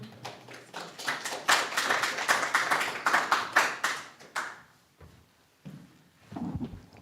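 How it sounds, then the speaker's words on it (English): Scattered audience applause at an art exhibition and book launch: a few hands clapping unevenly for about four seconds, then dying away into isolated taps and small noises. "That round of applause wasn't befitting."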